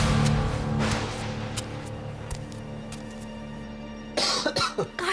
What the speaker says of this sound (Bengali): কাশছো কেন?